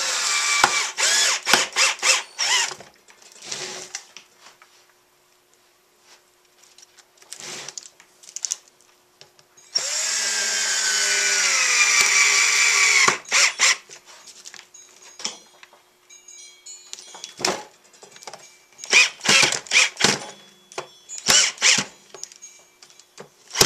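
Power drill driving screws into wood up close: bursts of whirring and ratcheting, a sustained rising whine in the middle, and more short driving bursts with clatter between them.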